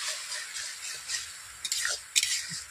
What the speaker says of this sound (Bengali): খুব কম আঁচ দিয়ে আমি এই রান্নাটা করছি, টমেটো আচার বানাচ্ছি খুব অল্প আঁচে